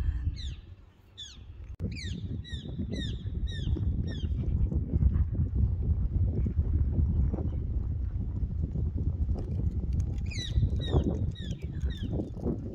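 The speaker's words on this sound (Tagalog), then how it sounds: "Ibon lang ang naririnig mo ngayon." Birds chirp in short repeated bursts over a steady outdoor rumble in Israel, calls clustering near the start and again toward the end.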